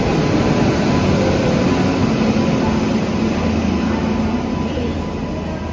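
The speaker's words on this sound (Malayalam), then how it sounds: "ട്രെയിൻ വരുന്നുണ്ട് കേട്ടോ." A train arrives at Aluva railway station in Kerala: a steady, loud low rumble of rolling wheels and engine noise that continues unbroken, easing slightly toward the end.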